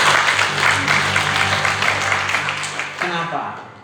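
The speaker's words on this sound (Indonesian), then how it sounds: "Tepuk tangan dulu buat Tuhan." A church congregation claps together at a Sunday service in Langkat, a dense wash of applause running steadily under a sustained organ or keyboard tone, with a voice rising near the end.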